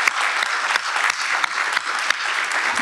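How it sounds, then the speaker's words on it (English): Audience applause at a smart growth summit plenary session, a dense steady clapping from a large crowd lasting the whole stretch with no talk over it. "let's give them one more round of applause"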